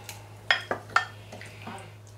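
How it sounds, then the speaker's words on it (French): Octopus is stirred into a paprika marinade, and a few soft clinks and scrapes of a utensil against a bowl come quickly one after another at close range in a quiet kitchen. "Donc on va rajouter la marinade. Et on va remuer."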